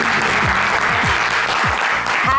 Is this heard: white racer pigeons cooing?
no